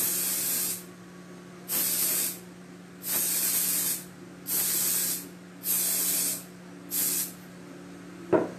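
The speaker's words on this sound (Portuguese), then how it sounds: "eu vou usar aqui o spray ice da Iceberg, que está sujinho aqui a tampa de pó" An Iceberg spray ice aerosol chills chocolate in short, loud hissing bursts, six sprays of about a second each with brief pauses between, close and clear with no talk.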